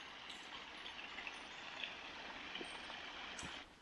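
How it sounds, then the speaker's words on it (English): A small waterfall along a countryside walking path produces a steady, broad rush of running water, close and constant, with no voices. "I've missed the sound of running water."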